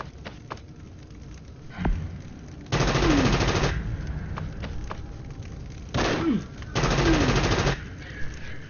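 Automatic gunfire in the video game Frontline Tactics, with pistol-armed enemies near a flaming car: two long loud bursts and a shorter one between, separated by quieter gaps with a few single thumps.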